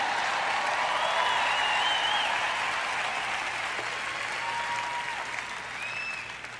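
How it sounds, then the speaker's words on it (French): Sustained applause from an audience during a French-language sermon, a dense steady wash of clapping throughout with faint whistles or cheers rising above it, tapering slightly toward the end. "Je prêche bien, vous feriez donc aussi bien de m'applaudir."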